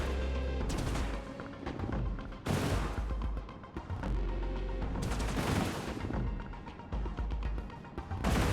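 Enemy gunfire in the sci-fi strategy game Industries of Titan, loud bursts of rapid shots that repeat in waves every second or two, each with booming impacts, with no voices over it.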